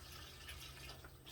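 Water poured into a sand-based mix for a handmade flower pot, a faint, brief splash and trickle in a quiet space.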